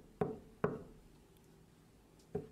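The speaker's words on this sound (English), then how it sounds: "let's knock on this guy's door" Three knocks on a dorm room door, two close together and a third after a pause, sharp and fairly near in a quiet hallway.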